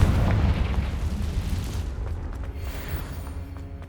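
A Confringo spell explosion in Hogwarts Legacy: a heavy booming blast at the start with a deep rumble that slowly decays and fades over a few seconds.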